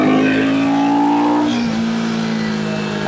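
A Royal Enfield Guerrilla 450 motorcycle revs hard while accelerating through the gears, its engine note climbing steadily and then dropping at a gear change before it pulls again. The loud, sustained exhaust sound runs alone, with no talk.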